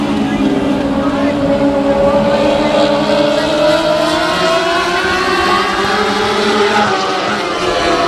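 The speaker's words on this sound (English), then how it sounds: "Out of turn number 4 as we hit the loud pedal and go racing." Race cars at Houston Motorsports Park roar out of turn 4, engines rising in pitch as they accelerate together in a loud, sustained drone, with a commentator talking over them.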